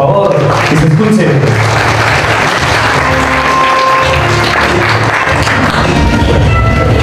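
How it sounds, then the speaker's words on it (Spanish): Applause rings out at a quinceañera as the godmother enters carrying the crown, a steady, dense clapping sustained through the whole stretch with background music and crowd noise mixed in. "El aplauso, por favor, que se escuche."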